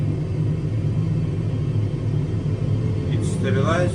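Steady low airplane engine roar builds to full power in a flight simulator at Patong, Phuket, a continuous droning rumble that holds throughout, with a voice talking over it near the end.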